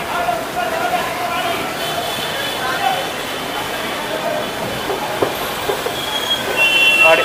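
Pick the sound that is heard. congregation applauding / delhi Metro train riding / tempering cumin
delhi Metro train riding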